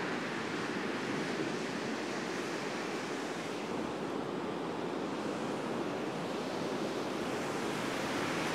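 Steady roar of waves breaking on a beach, a dense continuous wash of surf with some wind, heard alone without voices.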